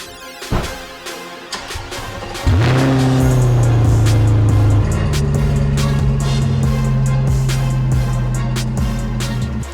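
A Chevrolet C8 Corvette starting up and pulling out, a sudden loud engine roar after a few clicks and thuds, then a steady rumbling idle with a shift in pitch partway through, close and dominant.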